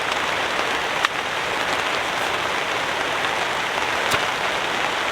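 Heavy rain pours on a lakeside campsite in a dense, even hiss of drops on surfaces, loud and continuous, with a couple of brief sharp ticks and no talking.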